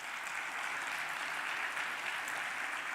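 Audience applause greets David Coulthard, the 13-time Grand Prix winner, as he comes on stage at a corporate digital conference; steady, dense clapping from a large crowd fills the moment without pause, fairly soft and even.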